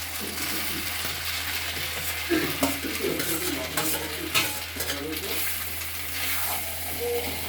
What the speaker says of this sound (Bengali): এখন আলু, ডিম, গাজর একসাথে যে সুন্দর করে ভাজা রাখছিল ওইটা এখন দিয়ে দিবে, দিয়ে মিক্স করবে